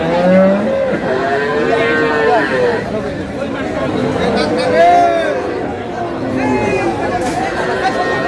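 Cows and calves at the Aftabganj cattle market in Dinajpur, with several drawn-out moos rising over a constant crowd chatter and nearby talk.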